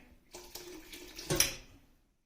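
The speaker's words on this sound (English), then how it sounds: "we'll pour a little hot water in there." Hot water poured into thick roasted vegetable soup in a kitchen, a few soft splashing bursts ending in a brighter slosh, quiet and close, then stopping.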